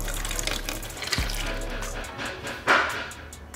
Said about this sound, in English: now it's time to pour some hydrogen peroxide into a tub